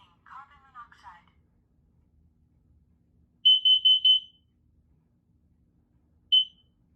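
Smoke alarms are set off during a smoke-can test, first a short voice announcement, then a piercing electronic tone sounding in quick repeated beeps, followed after a pause by one more brief beep, all close and clear.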